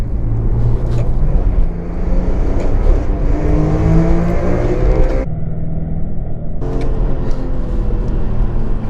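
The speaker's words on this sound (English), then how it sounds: "5th gear, floor the throttle, blip." A BMW E46 M3 with SMG gearbox revs hard at full throttle in fifth gear, its pitch climbing steadily, then cuts briefly with a blip before roaring back up. Loud and close, with no talking.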